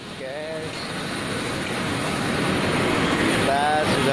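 A steady, loud jet-engine roar fills an airport apron at Soekarno-Hatta, Jakarta, just after a passenger plane arrives, swelling slightly throughout, with brief voices faintly audible near the start and end.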